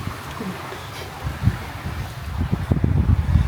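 Wind gusts buffet the microphone at a beach resort, with low rumbling bursts that grow stronger toward the end. Faint voices are heard in the background.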